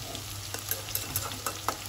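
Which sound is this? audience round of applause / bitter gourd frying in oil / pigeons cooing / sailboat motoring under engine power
bitter gourd frying in oil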